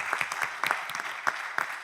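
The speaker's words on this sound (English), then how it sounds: "Let's give them a very warm round of applause, ladies and gentlemen." Audience applause at a scientific forum session on nuclear power and CO2 emissions, a short burst of scattered, thin clapping with distinct individual claps, moderately distant and fairly quiet.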